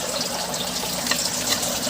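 Water taken from an aquarium is poured steadily into a container to acclimate a berried shrimp, a continuous close-up splash and gurgle with no pauses.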